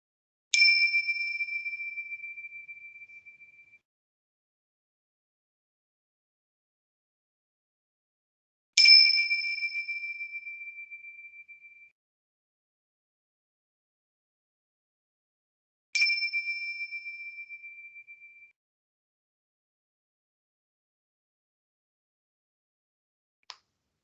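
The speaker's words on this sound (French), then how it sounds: "Je terminerai cette méditation en faisant sonner les clochettes." Small meditation bells ring three times at slow, even intervals in a silent room, each clear tone fading away slowly, followed by a faint short tap at the end.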